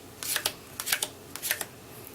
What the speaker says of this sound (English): you will shuffle the cards and cut them